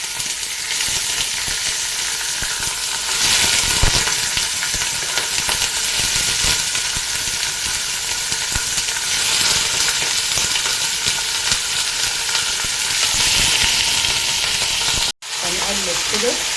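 Meat fries in a pot with cardamom, a loud, dense sizzle with stirring clatter, close and steady throughout before a brief break near the end.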